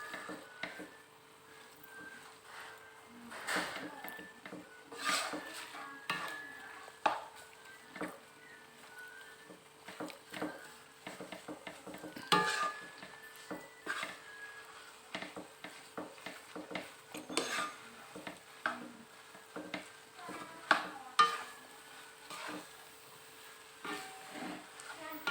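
Noodles being stirred in a pan with vegetables, heard as a sizzling hiss under repeated irregular scraping and clanking of the utensil against the pan, with faint voices in the background.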